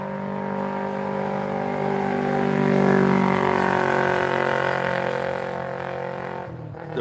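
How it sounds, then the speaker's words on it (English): Scooters ridden by young men passing along a road in a Thai village, a continuous loud engine drone that swells to a peak midway and then fades as the bikes move off, with no voices. "I'm on the road here, so you hear all the young boys with the scooter going by."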